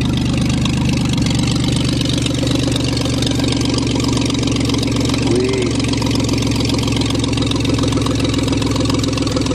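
Ford Taurus convertible engine idling steadily after a cold start in deep snow, a continuous low rumble with a faint brief voice in the middle.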